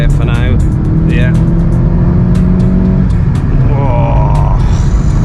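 A VW MK7.5 Golf GTI, 315 hp, accelerates hard, its engine note climbing steadily in pitch from inside the cabin while a driver talks over it throughout.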